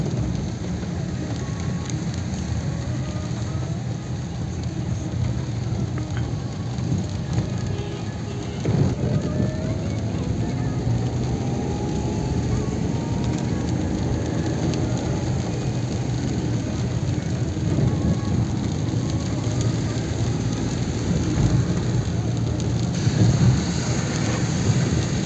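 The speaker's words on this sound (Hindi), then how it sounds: "बरसात के कारण" Steady rain falls in Delhi in winter, a continuous broadband hiss with low rumbling underneath that could be distant thunder, persisting throughout at moderate loudness without clear distinct claps.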